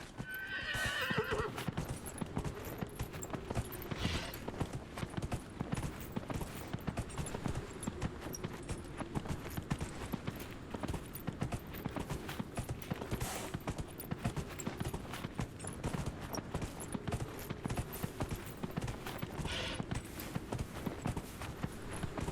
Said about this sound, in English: I am enjoying riding a horse,